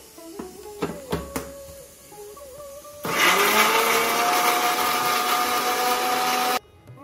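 A mixer grinder blends onion and tomato into a paste for pav bhaji, starting abruptly after a few knocks and clatters and running loud and steady for a few seconds before cutting off sharply.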